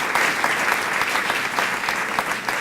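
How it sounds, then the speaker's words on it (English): A scholar awards evening at a golf club foundation fills with steady audience clapping, a continuous patter of many hands at moderate distance with no talk over it. "we should give John a round of applause"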